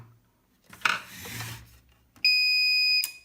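A loud electronic beep tone from a Visench VX-1200 LiFePO4 UPS that will not power on holds steady for about a second after some rustling and scraping handling noises.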